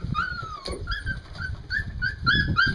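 Puppies whimper and yip while learning to climb steps, a string of high, wavering cries close by and fairly soft, with several small voices overlapping.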